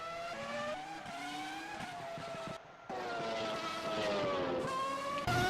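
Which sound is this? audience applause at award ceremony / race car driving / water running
race car driving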